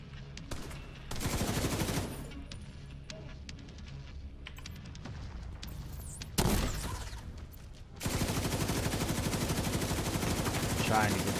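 Bursts of automatic gunfire ring out in a video game while the player aims for headshots, with keyboard clatter and a voice speaking underneath.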